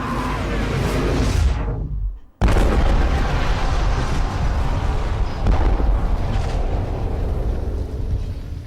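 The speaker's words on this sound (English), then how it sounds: "Ultimately speaking, that was a rather tame explosion." A video game explosion in Beyond Two Souls roars as a loud, dense rumbling blast, briefly cutting to silence and then resuming as a sustained heavy roar with no talk.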